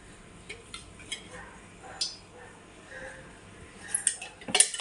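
Faint, scattered clinks and taps of metal utensils against a large metal pot, growing busier and louder toward the end, in a quiet kitchen.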